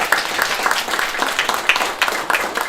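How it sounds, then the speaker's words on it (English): An audience at a women-in-jazz event applauds a public library, moderately loud clapping with distinct individual claps standing out and a few cheering voices mixed in. "please give a big round of applause to the Long Beach Public Library"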